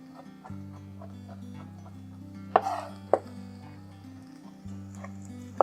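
A knife rocks across green peppers on a cutting board, chopping them finely. A few sharp, isolated knocks stand out over soft background music.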